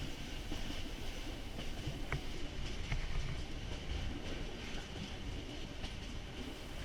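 Passenger train running from Yangon to Bagan in Burma in the morning, a continuous rumble of wheels on rails with faint rhythmic clatter and occasional metallic squeaks, heard from inside the carriage.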